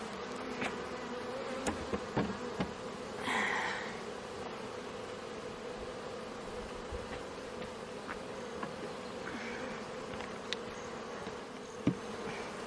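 A steady, low drone of many bees buzzing together in a hive box with an empty feeder, continuous and fairly quiet, with a few louder individual buzzes passing close by.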